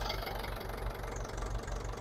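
A vintage Ferguson TEF-20 tractor engine idles close by with a steady, loud, rhythmic chugging and a faint knocking pulse repeating several times a second, without voices.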